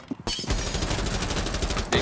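Rapid automatic gunfire rattles in a Rainbow Six Siege match, a dense burst of close, loud shots running about a second and a half after a brief single report, then cut off.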